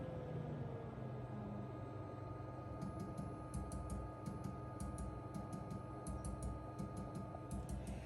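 Faint, irregular mechanical clicks from a Glowforge laser cutter cooling down, ticking over a low machine hum, scattered in small clusters, quiet and close.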